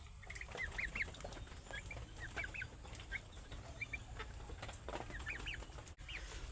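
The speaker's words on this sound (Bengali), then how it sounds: "এই ফার্মি মুরগিগুলো বাইরে এসে বাইরে খাবার খাইতে আস।" Farm chickens coming out into a yard to feed after a cyclone's rain, clucking in short, scattered calls at a moderate distance over steady low background noise, with a single sharp knock near the end.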